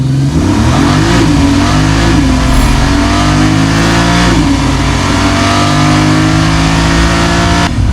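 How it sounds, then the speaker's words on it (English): A 2026 Porsche 911 Turbo S twin-turbo hybrid engine roars continuously and loudly up close, revving up and down with rising and falling pitch throughout. "Do you want to see the engine in action?"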